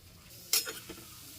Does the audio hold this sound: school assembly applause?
no